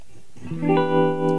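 Electric guitar played through a Big White Monkey Silverback amp with the foot switch kicked in, a distorted rock chord swelling up and ringing out loud and sustained after a brief quiet start.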